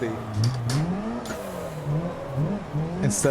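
A drifting car in a racing video game revs up and down, its engine note rising and falling in wavering sweeps over about three seconds, with a voice talking over it.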